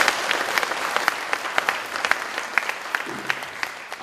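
Steady applause from an audience, a dense wash of many hands clapping with sharper individual claps popping out, sustained for a few seconds without talk.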